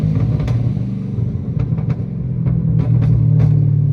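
Supercharged Dodge Challenger Hellcat Redeye cruising on a freeway, its deep engine droning steadily, broken by several sharp exhaust pops scattered through the run. Close, loud in-car sound with no talking.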